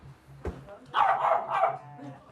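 A dog at a dog-friendly cafe in Bristol gives a sharp bark followed by a short burst of loud, close barks, with faint background chatter.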